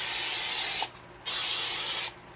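Two short bursts of cooking oil spray hiss loudly and close by as rotisserie parts are greased, each about a second long with a brief pause between them.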